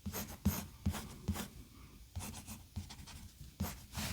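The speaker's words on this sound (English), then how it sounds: "I am just using a pencil here." Pencil scratching across paper in quick, uneven strokes, close and fairly quiet, with short pauses between bursts.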